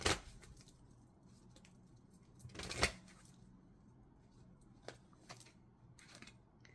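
Angel oracle cards riffled and shuffled by hand, quiet soft rustling with a louder burst of flicking cards midway and a few scattered taps and slides afterward.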